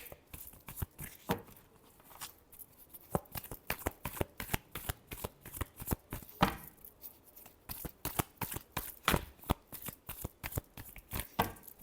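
Tarot cards are shuffled by hand in a quiet room, a steady run of fast papery riffles and slaps continuing without pause, close and fairly soft, with no talking.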